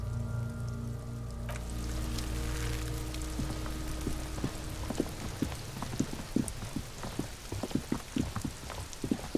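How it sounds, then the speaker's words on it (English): Steady rain in the video game Disco Elysium falls with a constant hiss, and scattered drops tap irregularly on a surface, growing more noticeable toward the end. "It's raining again."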